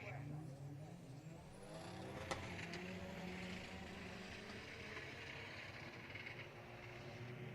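A race car engine drones steadily from a distance during a live hill-climb event, a faint, continuous mechanical whine with a roaring background and a brief sharp click near the middle, while a commentator talks over it.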